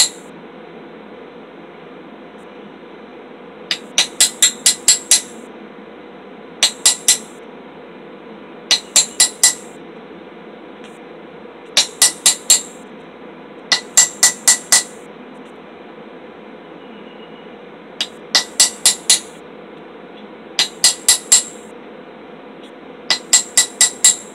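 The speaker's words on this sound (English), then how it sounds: "We'll just start hammering in my lines." A hammer strikes forged metal to put lines into it, sharp ringing blows landing in quick bursts of four to six, repeated again and again over a steady background hiss.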